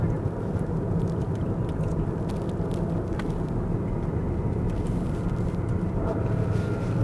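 A Porsche 911 of the 992 generation with an 8-speed PDK gearbox on a track, a steady low engine and road rumble heard from inside the car, continuous and dense without clear revs or shifts.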